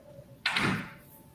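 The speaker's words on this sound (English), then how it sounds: "I'm just closing some doors" A door in an abandoned mall is shut with a single sharp sliding bang, followed by a brief fading rumble in a quiet, hollow space.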